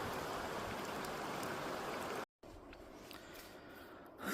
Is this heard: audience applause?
no